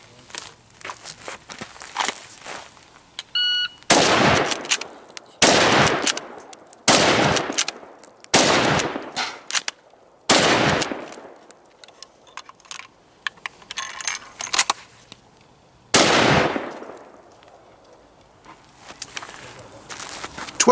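A scout rifle fires about seven loud, sharp shots at an outdoor range, mostly in a quick irregular string and then one more after a pause, with faint clicks and movement between them.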